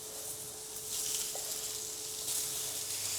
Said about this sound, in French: continuez la cuisson avec quelques pousses d'épinards.